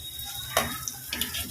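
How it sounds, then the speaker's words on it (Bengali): Chopped onion sizzles in a hot cooking pan with a steady, soft frying hiss. Faint stirring clicks and scrapes break in a few times. "এবার এই পেঁয়াজটাকে একটু ভেজে নেব।"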